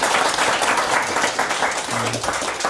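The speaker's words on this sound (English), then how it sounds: "Give Anton a round of applause." University lecture audience applauding a guest speaker, a thick continuous roar of clapping filling the room throughout, with murmured voices mixed in.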